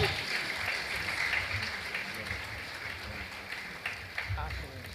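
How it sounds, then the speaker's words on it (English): Audience applause at a 70th birthday event for a bishop, a soft, distant wash of sustained clapping at low volume, running steadily throughout with faint voices underneath. "Please keep clapping until they come."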